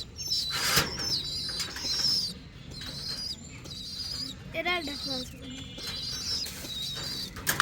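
A pair of pigeons flap their wings in bursts close by, with soft cooing and chirps, while people talk over it.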